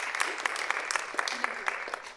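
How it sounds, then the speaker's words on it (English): An audience at a university campus talk claps briefly, with a scattered, uneven patter of hands and some voices murmuring underneath. "Round of applause to you guys as well."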